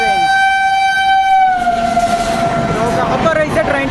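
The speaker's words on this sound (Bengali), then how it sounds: "ট্রেনটা ইলেকট্রিক ট্রেন" An electric train sounds a long, loud horn blast as it passes Kanaibazar railway station, the tone sliding slightly downward before rumbling wheel and carriage noise takes over.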